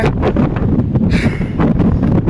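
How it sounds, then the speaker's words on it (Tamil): Strong wind gusts across an open farm field planted with Chinese potato in light drizzle, loudly buffeting the microphone as a steady, rumbling roar. "இங்கே சரியான காற்று சாரல் மலையும் இருக்குது"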